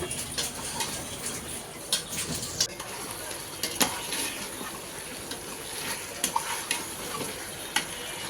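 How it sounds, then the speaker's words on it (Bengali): Meat and spice paste sizzle and crackle in a pan while a spatula scrapes and stirs, giving repeated clinks and scraping strokes over a steady frying hiss at close range. "এরপর মাংস আর মশলা একসাথে কষিয়ে নিবে"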